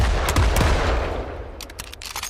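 A six-shot pistol in Planetside 2 fires a quick burst of loud, close shots, several sharp reports packed together, then trails off into lighter mechanical clicks.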